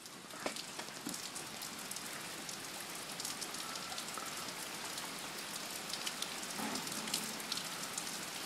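Steady rain falling outdoors, a dense continuous hiss of drops striking surfaces that holds at an even level throughout, with no voices.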